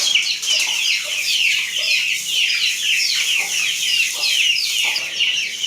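Chickens and young chicks cluck and chirp busily while being fed, a dense, steady flock chatter close by with no talking.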